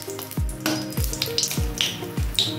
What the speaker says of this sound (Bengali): তেলটা গরম হয়েছে, তো আমি দিয়ে দেবো 3টে শুকনো লঙ্কা। 3টে শুকনো লঙ্কা ভালো করে ভেজে নেব।